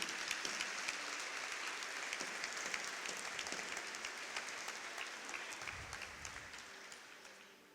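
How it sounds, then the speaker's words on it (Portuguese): Sustained clapping from a large church congregation, steady and dense, gradually fading toward the end. "Aplauda Jesus mais uma vez."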